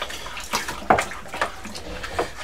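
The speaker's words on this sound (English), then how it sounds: "Give that a good stir, get the pectolase mixed in" Summer fruit wine is stirred to mix in pectolase, giving a few irregular close sloshing and swirling splashes of liquid in a vessel, each short and fairly loud.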